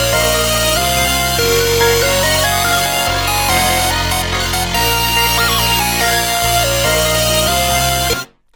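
A bright, buzzy synth lead from the Portal 'Tron' preset in FL Studio plays a stepwise melody over steady low bass notes, loud and continuous until an abrupt cutoff near the end.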